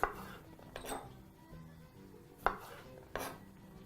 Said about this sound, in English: begin the process by just roughly chopping your clove of garlic